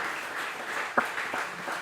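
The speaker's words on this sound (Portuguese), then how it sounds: "Você pode aplaudir ao Senhor por isso?" A church congregation applauds, a dense wash of many hands clapping together, moderately loud and steady for a couple of seconds with one sharper clap standing out.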